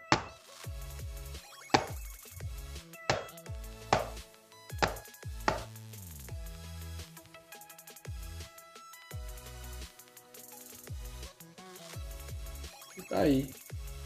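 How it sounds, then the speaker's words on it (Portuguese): Knocks and taps near a 30W RGBW mini moving head spot light in sound-sensor mode come as a series of sharp, close thuds, with music-like tones and brief talk in the background. "Vou bater aqui para vocês verem."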